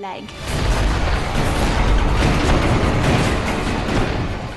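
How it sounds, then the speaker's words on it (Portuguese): Cannons firing aboard a Royal Navy warship, a dense, sustained roar of booming blasts and rumbling low-end that stays loud and continuous throughout, like battle sounds at close range. "Enquanto os canhões disparam, o garoto no convés está em perigo mortal."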